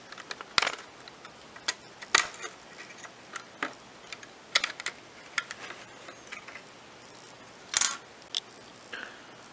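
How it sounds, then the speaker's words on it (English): A black plastic cover is pried off a Nintendo Wii console, giving scattered sharp plastic clicks and snaps, some louder than others, at close range against a quiet background. "Now I'm just going to pop this black cover off."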